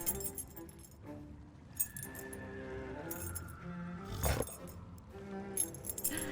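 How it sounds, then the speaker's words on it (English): Keys jangling and clinking as they are taken from the prison dog in the Sea of Thieves pirate game, a few light metallic rattles close by over a quiet background. "let's take the keys from him"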